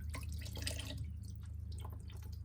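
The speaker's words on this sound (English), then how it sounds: "I don't know if you can see what's running off my hand, but that's just water." Water drips and runs steadily off a hand while working on a messy Detroit 6V92TA diesel engine swapped into a 1959 Plymouth Belvedere, a close, continuous trickle with small splashes and no talking.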